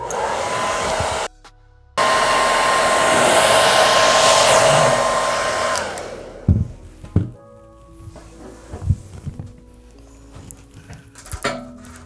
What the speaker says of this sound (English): we're gonna hit this with the blow dryer